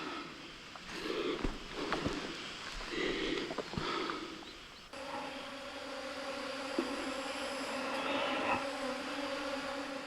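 Bees buzzing around blooming dogwood flowers along a Baekdudaegan mountain ridge, a faint, steady hum that carries through the whole stretch with a few louder brief passes near the start.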